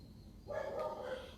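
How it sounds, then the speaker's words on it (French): A neighbour's dog gives a single muffled bark-like yelp at a distance, faint and brief against quiet room tone with some voice nearby. "Désolé pour les voisins qui aboient."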